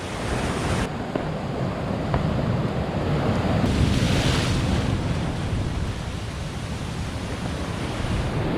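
Ocean swell and surf near a headland, a continuous broad roar of breaking waves mixed with wind buffeting the microphone, steady and fairly loud with no talking.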